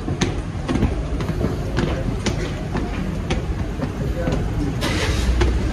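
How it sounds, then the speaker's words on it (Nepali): A train runs past near a station in Tokyo, a continuous loud rumble with a rhythmic series of sharp clicking wheel beats on the rails. "यता साइडबाट चाहिँ रेलहरू हिँड्छ है त सो गाइज रेलहरू देख्न सक्नुहुन्छ"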